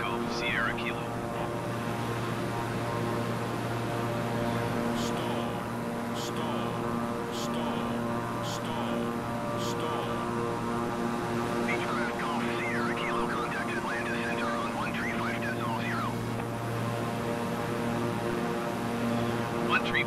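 Steady droning hum of a Beechcraft propeller aircraft engine in a flight simulator game, continuous and even throughout, with a few faint clicks and radio-style voices talking over it.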